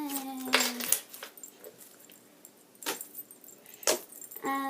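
Slime being squeezed and worked by hand, giving a handful of close, crisp clicking snaps spaced irregularly over a quiet background, with a faint tonal hum at the start.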